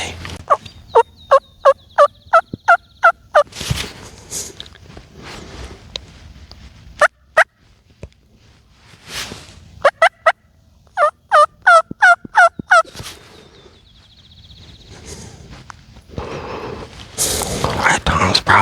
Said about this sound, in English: I can see that gobbler down there.